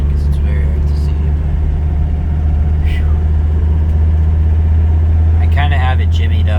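Mercedes W123 coupe engine droning steadily from inside the car while driving at night, a loud low hum throughout with a few brief faint sounds over it.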